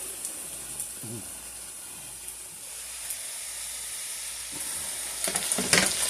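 Food sizzles steadily in a frying pan as it is flipped. A gentle hiss builds toward the end with a burst of crackling, and a brief human sound comes in near the start.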